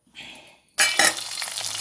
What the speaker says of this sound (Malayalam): ഇതിലേക്ക് മല്ലി മുളക് ചെറിയ ഉള്ളി കറിവേപ്പില നാളികേരം ഇത് കൂട്ടി മസാലയ്ക്ക് വറുത്തെടുക്കാം